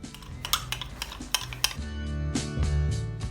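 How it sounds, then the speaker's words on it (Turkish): A spoon taps and clinks against a bowl while mixing a tablespoon of flour with two or three tablespoons of water for Turkish Ramadan pide. Quick, close, irregular knocks give way to a smoother stirring rub. "Bir kasede 1 yemek kaşığı unu ve 2-3 yemek kaşığı suyu karıştırıyoruz."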